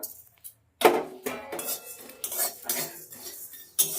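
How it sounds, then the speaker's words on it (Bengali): Cumin, coriander, cardamom, black pepper, cloves and cinnamon are dry roasted together in a wok over a gentle flame, with close metallic scraping and clinking of stirring that starts after a near-silent moment and continues in uneven strokes. "জিরে ধনে এলাচ গোলমরিচ লবঙ্গ আর দারচিনি এই সবগুলো মশলা একসঙ্গে কড়াইতে ভেজে ড্রাই রোস্ট করে নেব"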